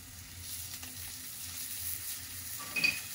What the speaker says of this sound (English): I'm turning the heat down a little just to sweat out those shallots a bit.